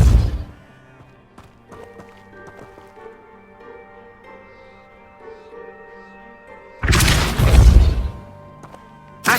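A Depulso spell is cast in Hogwarts Legacy, producing a loud, short, forceful whoosh-and-impact burst with heavy low rumble. Quieter game sounds and ambient tones come before it, and a brief thud opens the clip.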